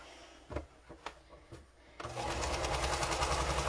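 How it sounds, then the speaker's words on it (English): A sewing machine stitches pieced quilt fabric, starting after a few soft handling knocks and then running as a fast, even mechanical whir close by. "I'm just going to go ahead and sew that"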